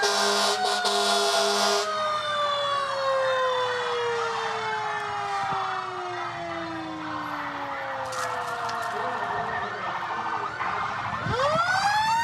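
A Birmingham Fire and Rescue fire truck sounds its siren at a Veterans Day parade in Birmingham, Alabama. The siren is loud and close, sweeping and wailing for the whole stretch, with horn-like blasts near the start and crowd noise beneath.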